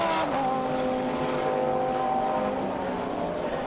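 A Ferrari GT3 race car roars past at a circuit race in Portugal, its high engine note falling in pitch as it moves away, under a constant loud wash of engine and track noise.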